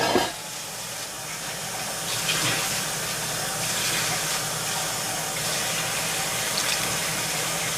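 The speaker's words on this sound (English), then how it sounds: "I might add a little bit more water though" Water pours steadily into a pot, a continuous splashing rush with a faint hiss, running evenly for several seconds with no talking.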